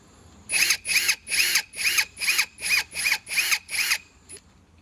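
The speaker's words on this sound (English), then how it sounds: "We'll drill a little bit further down." A power drill bores into concrete in nine short, even bursts, each trailing off before the next, close and clear with no talk, then a faint tap at the end.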